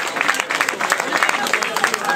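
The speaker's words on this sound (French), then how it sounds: "Ça mérite vos applaudissements, s'il vous plaît." Dense, steady applause from a crowd at a cycling race fills the whole moment, loud and close, with many hands clapping at once.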